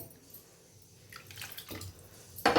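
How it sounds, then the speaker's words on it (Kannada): Brief splashy bursts of water being poured into a bowl, faint at first, then a louder splash right at the end. "ಸ್ವಲ್ಪ ನೀರು ಹಾಕೋತೀನಿ."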